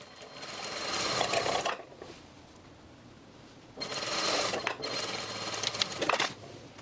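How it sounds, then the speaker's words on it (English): A sewing machine stitches down the side of a pants pocket opening in two quick bursts of fast, even needle chatter, separated by a pause. The sound is close and fairly quiet. "you can lift up and pivot and start sewing down the side that makes up your pocket opening"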